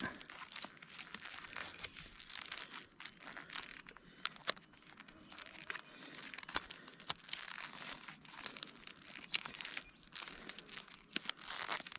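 Crinkly material being folded over into a cross, a close, steady rustle with sharp crackles and crunches as the sheet is creased, quiet and alone.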